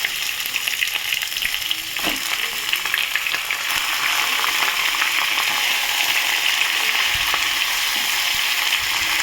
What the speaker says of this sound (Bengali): চিকেনটা আলুর উপরে দিয়ে ভেজে নেবো।